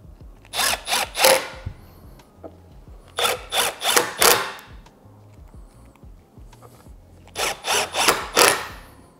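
Supplied screws are run into a large wooden bed platform inside a camper with a power drill, heard as three clusters of short, loud driving bursts separated by quiet pauses, close up with no talk.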